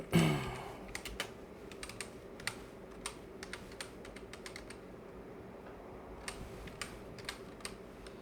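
Light keystrokes on a computer keyboard, typed with one hand in short irregular bursts with pauses between, close and fairly quiet with no speech.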